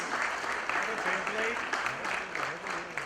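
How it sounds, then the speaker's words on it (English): Stage show audience clapping lightly and unevenly at a fairly low level, with some talk and crowd murmur running through the brief applause. "You can clap little bit, yeah."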